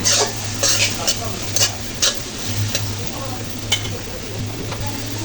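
Spices with a spoonful each of garlic paste and ginger paste stir-fried in a pan for a Bengali fish curry with bottle gourd, with sharp spatula scrapes repeating every half second over a soft sizzle and a steady low hum.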